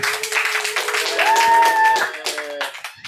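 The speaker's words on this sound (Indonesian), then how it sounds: "Yuk tepukan semua" Small audience on an Indonesian campus talk show claps for an invited student association head, a brief burst of scattered hand claps mixed with voices and a sustained tonal sound, fading out toward the end.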